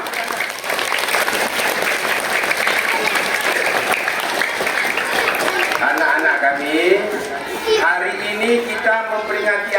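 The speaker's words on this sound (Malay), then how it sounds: "Tepuk tangan semua." A crowd applauds at an Isra Mi'raj commemoration sermon with a continuous, dense burst of clapping, and a voice comes in over the tail end as it fades.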